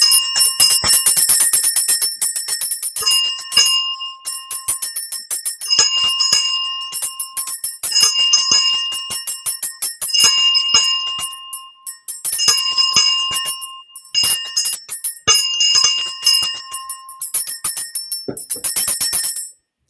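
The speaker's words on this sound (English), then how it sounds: "Doing the bell for the children." A small bell is rung repeatedly in bright, clear bursts of tinkling chimes separated by short pauses, loud and close with no talking over it.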